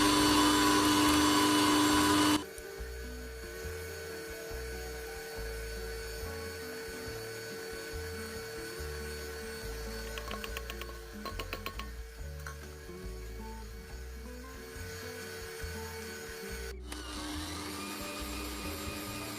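A stand mixer beating chocolate and butter, running steadily with a motor whine and rhythmic whirring, louder for the first two seconds and then settling to a lower steady drone.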